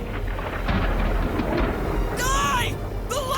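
Lightning spell thunder strike in the Dragon Quest game Infinity Strash: The Adventure of Dai, a loud rumbling crash with sharp crackling bursts, layered over game music and shouting voices.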